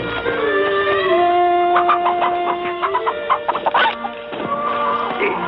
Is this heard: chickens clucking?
yes